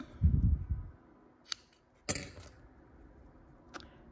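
Scissors snip crochet yarn in three quiet, separate cuts spaced about a second apart, after a soft low thump at the start, in a quiet room.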